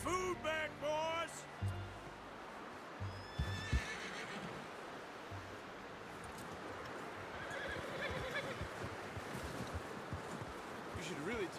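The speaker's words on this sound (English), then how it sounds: "You should really tether that horse, Arthur." A horse in Red Dead Redemption 2 lets out a loud whinny at the start, followed by snorts and hoof clops, then a quieter outdoor game ambience with faint voices underneath.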